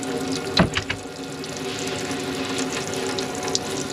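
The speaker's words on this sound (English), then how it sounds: "it's pumping now out of there with that submersible pump up out of the tap." Cold water pumped by a submersible pump flows from the tap in a VW camper, a steady splashing stream into a sink with a brief louder gush near the start, heard close and alone.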